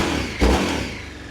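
A KTM Super Duke 1390 engine idles with a low, rough rumble, then gets a short blip of throttle that swells the sound briefly before settling back. It is close and loud, with no talking.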